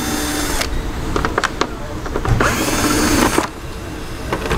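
A hand tool backs out the 8mm bolts on the air filter cover of a 2013-2015 Ram 6.7 Cummins diesel, making short, close ratcheting clicks and metallic taps over a steady background hiss.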